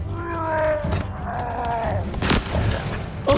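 A shotgun fires once in the Halo Infinite campaign, a sharp loud blast cutting through ongoing game noise and creature-like tonal cries.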